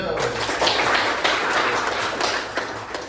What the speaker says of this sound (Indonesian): Beri tepuk tangan buat siapa namanya? Alvin